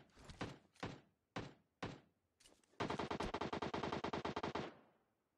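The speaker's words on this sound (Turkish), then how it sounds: "Biri bana mı sıktı?" Gunfire in PUBG Mobile: several separate sharp shots, then a long rapid automatic burst of about twenty rounds, loud and close with no talking.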